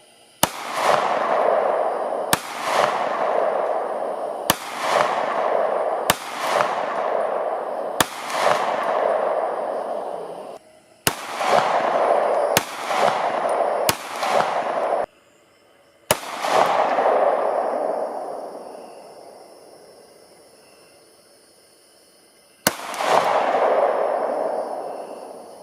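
Streak glow ammunition rounds are fired at a target about 44 yards away outdoors: roughly eleven sharp, loud gunshots spaced a second or more apart, each followed by a long rolling echo, with a longer gap before the final shots.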